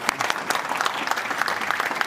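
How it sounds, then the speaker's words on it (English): Conference audience applauding panelists after a session: brisk, continuous clapping from a sizeable crowd, heard close and evenly loud for the full moment. "let's give a good round of applause to our panelists"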